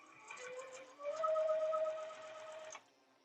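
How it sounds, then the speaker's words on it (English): A sewing machine stitching a quarter-inch quilt seam, a soft, fast mechanical whir that ramps up, runs steadily for a couple of seconds, then stops abruptly; fairly quiet and close with no talk. "I feel like it is a whole lot easier to sew a 1/4 inch seam with this machine than it was my previous machine."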